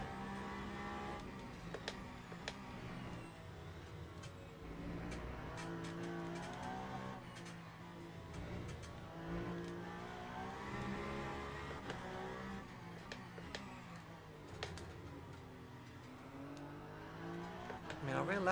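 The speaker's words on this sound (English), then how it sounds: "Our rear is sliding around quite a bit now." A Lexus race car in a racing video game during a six-hour Qatar endurance race, with a steady engine drone and tyre noise as the rear slides, under continuous commentary.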